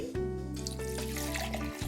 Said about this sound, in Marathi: यामध्ये पाणी घालते